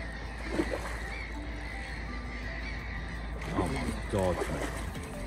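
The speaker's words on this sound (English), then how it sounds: "Sound of them birds is gnarly, isn't it?" Birds call against a background hum in reeds by a carp fishing spot, with a few harsh, honking cries rising up close near the end.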